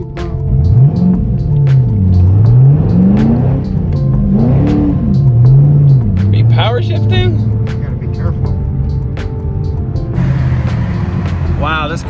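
2010 Ford Mustang driving with a newly installed Stage 2 clutch, engine revving up and down through gear changes from inside the car, loud and continuous, with people talking over it.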